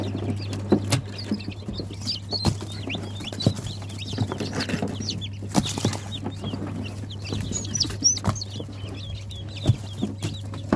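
Newly hatched chicks from a small incubator peep in rapid high chirps among clucking chickens, a busy, close chatter over a constant low hum.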